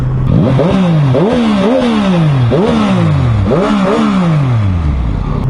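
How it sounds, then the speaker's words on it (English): A Yamaha MT-09 motorcycle engine is revved hard several times in a row, each blip rising sharply then falling back, loud and close. "The MT09 produces quite decent sound as well."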